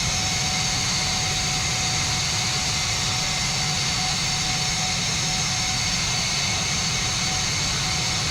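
A SEPECAT Jaguar jet taxis along a runway in the FlightGear flight simulator, its engine a steady, loud, unbroken roar and whine that holds constant throughout, with no talking over it.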